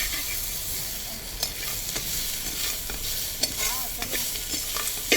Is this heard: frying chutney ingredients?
yes